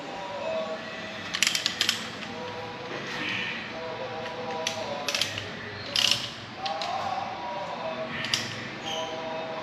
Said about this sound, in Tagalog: Yan, babalik na natin yung tornilyo. Tapos higpitan natin.